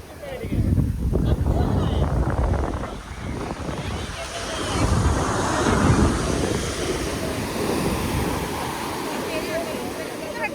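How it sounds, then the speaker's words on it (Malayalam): Strong wind buffets the microphone at a beach with boats nearby, a steady roaring rush over rolling sea waves that swell and fade, with voices faintly in the background. "നല്ല കാറ്റുണ്ട് നല്ല കാറ്റ്"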